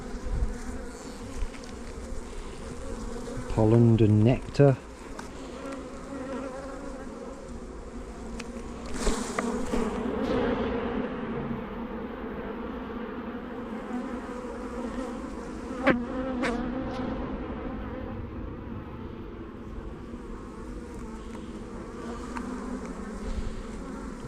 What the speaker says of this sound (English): Rolling bees.